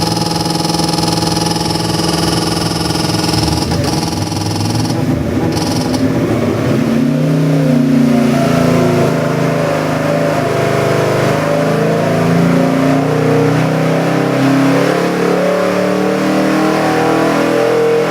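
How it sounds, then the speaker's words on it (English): A Ford 383 cubic inch stroker crate engine built on a 351 Windsor block revs loudly and continuously on a test stand. Its rough mid-range roar swells and settles across the whole stretch, with no talking. "Very nice, sweet engine."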